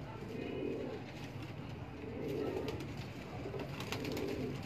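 Pet breeding pigeons, a prized pair kept by a Lahore fancier, coo softly in repeated low swelling phrases about once every two seconds over a steady hiss of room noise, moderately close and fairly faint.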